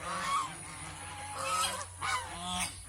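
Domestic geese gathered in a group honk back and forth, several loud, close nasal calls overlapping in uneven bursts with no talking.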